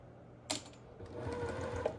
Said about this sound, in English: Sew a few stitches just to get the two pieces together.